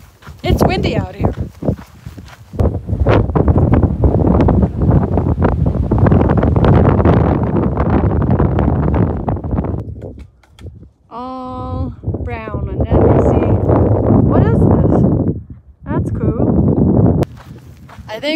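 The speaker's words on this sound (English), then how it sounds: "It's windy out here." Heavy wind buffets the microphone in loud, roaring gusts on a mountain trail on the Pacific Crest, with footsteps and a voice breaking through in places.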